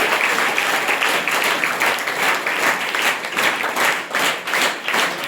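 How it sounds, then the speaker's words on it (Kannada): Schoolchildren clap loudly for a newly appointed school parliament minister, a dense, steady burst of hand claps with slight swells and no talking. "ಜೋರಾಗಿ ಚಪ್ಪಾಳೆ ತಟ್ಟಬೇಕು"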